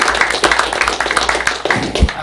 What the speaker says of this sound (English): is worthy of a round of applause